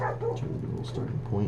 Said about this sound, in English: Sorry about the dog there in the background.